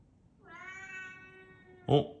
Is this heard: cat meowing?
yes